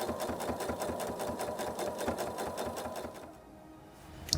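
A sewing machine runs in a steady fast rhythmic stitching burst for about three seconds, then stops, leaving a quiet pause before a small clunk at the end.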